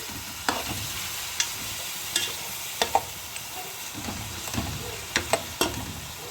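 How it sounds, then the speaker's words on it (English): Mutton fries in a pan with a loud, steady sizzle, punctuated by occasional clinks and scrapes as the meat is stirred, and no talking. "First I'll let my meat fry, guys."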